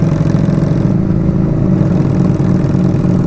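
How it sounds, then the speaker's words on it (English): A 2015 Harley Sportster with many custom parts idles close by, its loud engine putting out an even, continuous rumble with a slight pulsing throb and no voices over it. "So this is Jonathan's new bike. It's a 2015 Harley Sportster."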